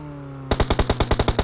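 Rapid automatic gunfire in a tactical shooter match, a steady burst of about ten loud evenly spaced shots after a half-second of quiet background tones.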